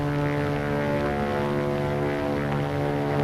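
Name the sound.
propeller plane flying overhead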